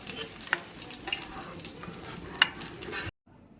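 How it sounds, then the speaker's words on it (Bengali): Hilsa fish heads fry in oil, giving a soft sizzle with occasional small pops and the scrape of stirring. The sound then cuts off abruptly near the end. "ইলিশ মাছের মাথাগুলো আমার ভাজা হয়ে গেছে"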